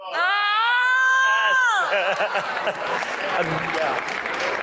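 A studio audience breaks into applause and whoops after a sustained, tonal voice or cheer at the start, the clapping and scattered shouts continuing close and loud for several seconds.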